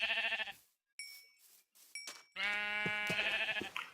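Sheep in a video game bleat in a couple of loud, wavering calls with brief chimes and short gaps between, heard close and without talk.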